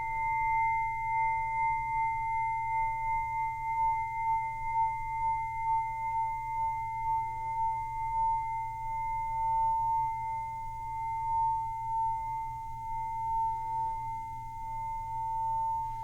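A steady, pure metallic ring from a struck bell cymbal sustains evenly for a long time, with faint shimmering overtones and no other sounds.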